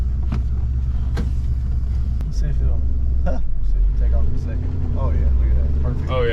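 Ford Bronco with an EFI 302 V8 and 4-speed, a loud low engine rumble revving and pulling away close by, with people talking over it.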